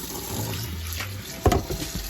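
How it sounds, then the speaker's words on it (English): Cold tap water pours into a sink or bowl of potatoes being rinsed of starch: a close, continuous splashing fill with a short louder gush partway through. "So to wash potatoes, you just want to fill it with cold water."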